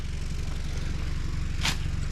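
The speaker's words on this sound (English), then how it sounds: "That's how a lawnmower works." A lawn mower runs steadily close by, giving a continuous low, throbbing engine drone. A brief airy whoosh rises over it near the end.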